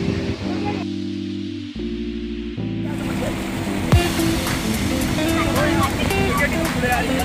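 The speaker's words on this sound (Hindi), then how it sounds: "ऊपर जल बहता रहता है, पानी है उससे बह रहा है" Water runs and splashes steadily at a Mahadev temple picnic spot, a continuous rushing wash that sits beneath a voice speaking and loud background music.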